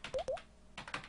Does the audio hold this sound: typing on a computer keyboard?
yes